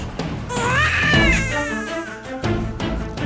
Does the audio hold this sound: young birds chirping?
no